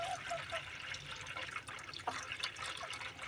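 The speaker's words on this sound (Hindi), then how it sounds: "अभी हम पानी डाल रहे हैं।" Water is poured into a container for a young camel, giving a soft steady splash and trickle close by with occasional drips, quiet and without talking.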